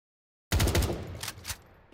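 A burst of rapid gunfire erupts in a team shooter video game, loud and close after silence, rattling for about a second before trailing off into a few scattered shots.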